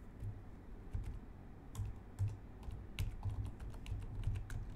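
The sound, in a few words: typing on computer keyboard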